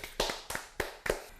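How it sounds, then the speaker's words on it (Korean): Four sharp, separate hand claps sound close and fairly loud, evenly spaced with brief gaps of quiet between them. "박수!"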